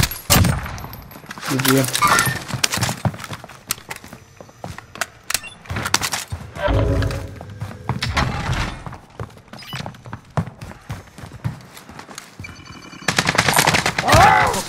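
Automatic and single gunfire with thuds in the video game Call of Duty: Modern Warfare, loud bursts scattered through the clip and heaviest at the start and end, mixed with shouted voices.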